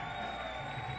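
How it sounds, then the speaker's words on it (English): Hometown crowd at a 3x3 basketball World Tour event in Lausanne cheers and whoops in a continuous swell that sounds slightly distant and fills the whole second. "the hometown crowd is letting him hear it"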